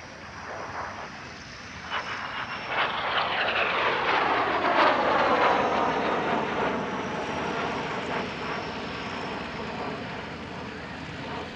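A MiG-15 jet fighter, restored to flight in 2021, passes over an airshow with a loud, sweeping jet roar whose pitch bends downward as it flies by.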